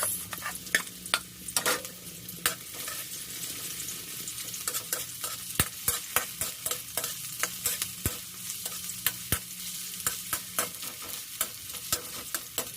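Onions sizzling in hot oil in a pan while being stirred with a utensil, a steady frying hiss punctuated by frequent sharp scraping and tapping strokes, close and clear, as the sauce base for sweet and sour tambakol fish begins.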